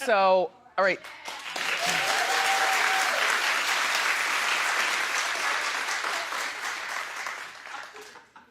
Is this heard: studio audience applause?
yes